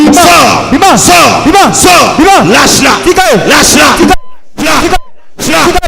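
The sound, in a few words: woman crying out loudly during prayer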